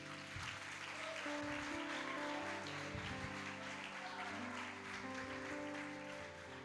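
Church congregation applauding together, a steady, dense wash of clapping that holds evenly throughout at moderate level.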